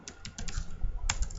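Typing on a computer keyboard, a quick run of light, close key clicks in a short irregular burst followed by a sharper final tap.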